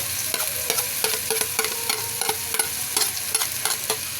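Garlic and chili sautéing in a hot pan for a Filipino laing dish, a steady loud sizzle with repeated stirring scrapes and clacks of a utensil against the pan, close up with no talk.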